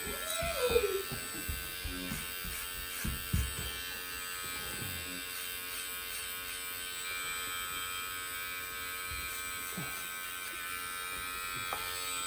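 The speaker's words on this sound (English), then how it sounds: "a little clipper over comb" An electric hair clipper buzzes with a steady, close drone as it cuts hair over a comb, its tone shifting slightly with a few brief knocks and rustles near the start.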